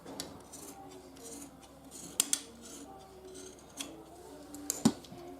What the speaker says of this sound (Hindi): इस तरीके से इसकी कटिंग कर लीजिए।